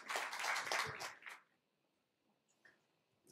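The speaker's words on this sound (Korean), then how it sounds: "박수 부탁드릴게요." Applause from a forum audience greeting the App Annie Korea country manager as he takes the stage, a dense burst of clapping lasting over a second before cutting off into near silence.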